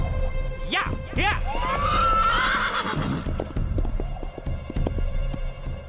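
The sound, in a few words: horse neighing and galloping in a cartoon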